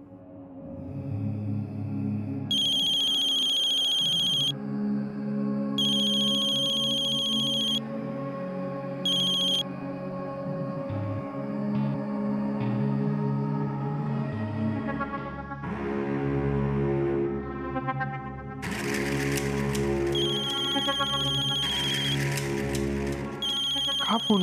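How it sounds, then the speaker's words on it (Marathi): A telephone ringtone plays in a Marathi TV serial scene, a melodic tone repeating in several bursts over background music, with voices talking through part of it. "का फोन करतायत ह्या?"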